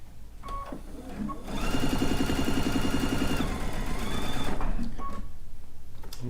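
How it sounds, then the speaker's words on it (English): Sewing machine fitted with a digital dual feed foot and a 1/4 inch piecing plate runs steadily, joining quilt pieces for a stone log cabin block; a loud continuous whir fills most of the stretch, with a voice talking before and after. "And I'm just going to sew these all together."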